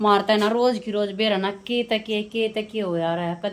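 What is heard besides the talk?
None of the usual background noises is heard.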